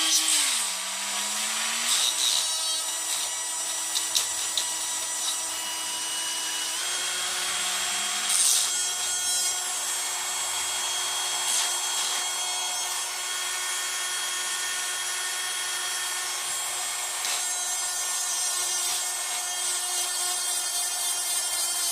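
A Ferm cordless multifunction mini drill runs at a steady high-pitched whine with a bright, buzzing edge and slight shifts in tone, close and continuous for the whole stretch with no talking.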